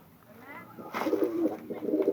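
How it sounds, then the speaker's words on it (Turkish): Soft, low cooing from a dove or pigeon, a few throaty warbling notes repeated close by in a quiet room. "burada bir tane kuşumuz var"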